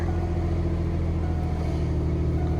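A 1991 Ford F-250 pickup truck engine idles with a steady low rumble and throbbing rhythm, close and continuous with no talking.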